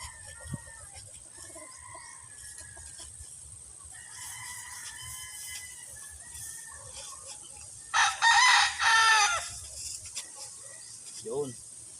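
Chickens cluck and call around a farm during land preparation, with a rooster crowing loudly up close in the middle, set against a quiet outdoor background; someone speaks at moments.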